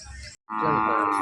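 A young bullock intended for cart work moos at a Kashti cattle market, one long loud low call close by, following a brief burst of crowd noise and a short pause.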